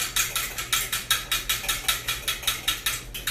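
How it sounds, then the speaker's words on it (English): A fork whisks briskly against the inside of a bowl in a fast, even rhythm of about four scraping strokes per second, close and clear with no talking. "I'm just gonna use a fork because I don't actually have one of those itty bitty whisks"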